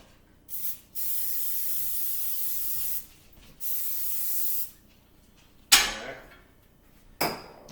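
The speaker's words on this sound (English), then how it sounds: "I'm going to spray a little Pam Original on there to help so the pancakes don't stick" Several short hissing bursts of Pam Original cooking oil spray onto a pan, two longer sprays followed by quick sharp ones, with quiet gaps between.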